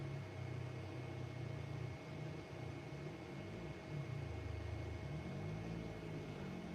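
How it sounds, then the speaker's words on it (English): A car passes outside, likened to a doom buggy, as a low, droning engine hum that stays faint and muffled throughout, swelling slightly in places, with no talking. "Oh, that sounds like a doom buggy."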